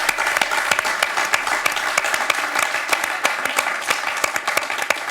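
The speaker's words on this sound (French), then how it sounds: "On peut applaudir Laetitia qui s'est battue jusqu'au bout." Studio audience on the French quiz show Questions pour un champion applauds contestant Laetitia, a dense, steady wash of clapping with sharp individual claps standing out throughout.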